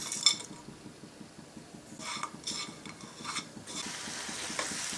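Grated coconut and date palm jaggery cooking in a pan for a pitha filling, with a soft background sizzle under repeated scraping and stirring of a utensil against the pan, a few louder clinks, no talking.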